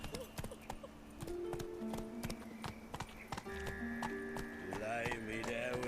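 Horse hooves clip-clop steadily while riding in The Witcher 3, a rhythmic trotting gait heard up close beneath game music and ambient sounds, with a brief whinny-like tone near the end.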